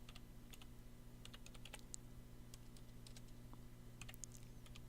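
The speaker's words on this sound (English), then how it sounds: "Let me just type that in there" Fingers tap out a coupon code on a computer keyboard, producing scattered quick clicks in short irregular bursts over a steady low electrical hum, close and fairly quiet, with no voices.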